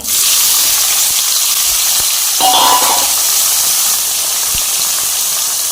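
Cardamom, cumin, bay leaf, cinnamon, cloves and tomatoes fry in a pan, giving a loud, steady sizzle with a brief hiss of steam partway through and a few faint stirring knocks.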